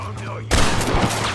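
A gunfight in Red Dead Redemption on PS3. After a quiet start, a sudden loud volley of close gunshots breaks out and keeps going, with overlapping rapid shots.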